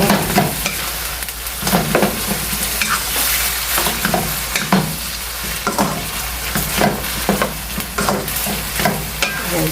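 Ground beef sautéing in a pan for lasagna, with a steady sizzle throughout and repeated scraping stirs of a utensil, close and fairly loud, no voices.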